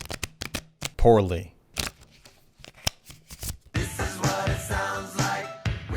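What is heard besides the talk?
shuffling a deck of playing cards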